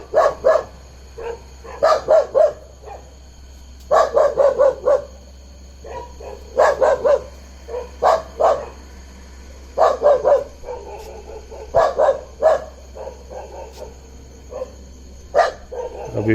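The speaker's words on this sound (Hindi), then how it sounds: "एक कुत्ता सामने, इन कुत्तों की आवाज़ सुन के भौंक रहा है" Several dogs bark in repeated bursts at a resort in Rajaji National Park with a leopard nearby, some near and some farther off, with short yips between them over a steady low hum.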